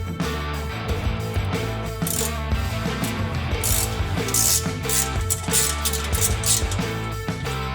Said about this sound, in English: next we'll go ahead and remove these 3 nuts that secure the mid-pipe to the manifold